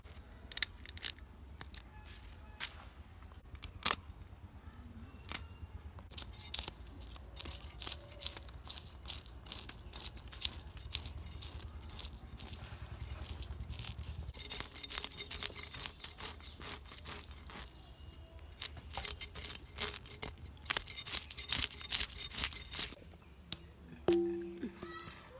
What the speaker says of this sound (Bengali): বন্ধুরা এখন আমি মাছটা কুইটা নেব।